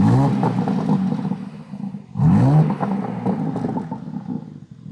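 A stock-exhaust BMW M3 engine revs up close in two loud bursts, each climbing sharply in pitch before falling back to a rough idle.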